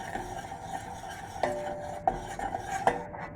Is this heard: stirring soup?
yes